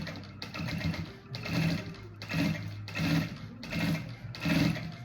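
A sewing machine stitching a safety seam on a bag, running in about six short bursts with brief pauses between them, close and clear with no voices.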